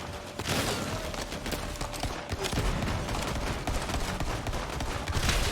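Dense, continuous gunfire bursts with grenade blasts from Borderlands 3, loud and busy throughout with no gaps, a steady wall of shooting and impacts.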